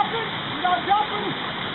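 Fast-flowing river rapids rush as a steady, broad wash of water noise, with a voice partly heard over it.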